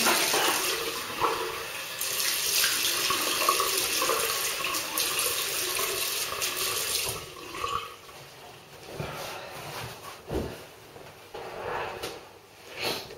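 Water runs from a tap while a Gillette Tech razor is rinsed, a steady splashing stream that ends partway through, followed by a few drips and small knocks at the sink.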